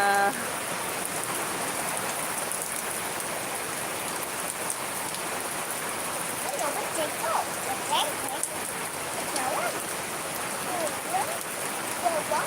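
Steady rain falls and patters on surfaces, a constant, fairly soft hiss with scattered drips that runs the whole length.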